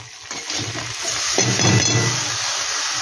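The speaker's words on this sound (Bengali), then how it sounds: "চালটা কিন্তু একটু ভালো করে ভাজতে হবে" Rice grains frying in a pan with cumin and turmeric powder for chal potol, a steady close sizzle and hiss with light stirring scrapes, growing slightly louder partway through, with no talking.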